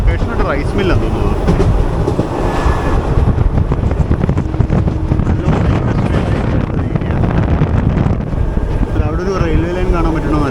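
Sabari Express (17230) running on an electrified single line, heard from inside an AC First Class coach: a steady, loud rumble and rattle of the carriage fills the whole stretch, with talk in the background.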